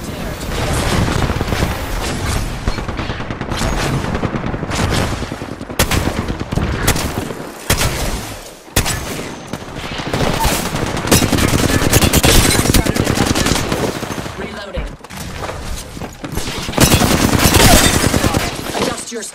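Dense automatic gunfire in an Apex Legends battle royale match, continuous loud bursts with brief gaps, mixed with in-game impacts and overlapped by players talking throughout.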